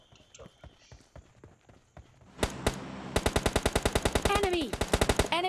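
Video game gunfire starts with scattered single shots, then becomes loud, rapid automatic bursts of evenly spaced cracks close up, with a voice talking over the shooting.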